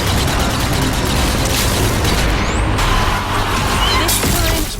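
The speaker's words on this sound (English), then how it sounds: "Some grenade throwing." Grenades go off in the Zombie Army 4: Dead War zombie shooter, giving dense, loud booms and crashing blasts over a constant din of game action, with no pause between them.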